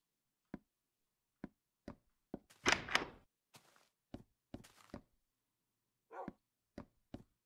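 A video game dog barks in short, sharp bursts spaced a second or so apart, with a louder, longer thud-like burst in the middle, against an otherwise silent background.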